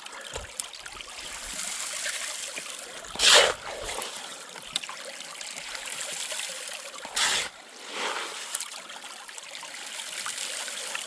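Water trickles and streams steadily through a gold panning sluice, with two brief splashy bursts as scoops of gravel are dropped in, close and fairly clear with no talking.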